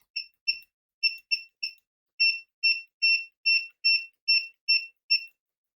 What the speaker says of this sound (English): The buzzer is way louder on the Owon.